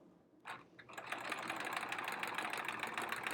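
A sewing machine runs steadily while free-motion quilting, stitching in the ditch along a seam on a quilt-as-you-go sampler block, its fast even hum starting after a couple of short bursts and holding close and constant.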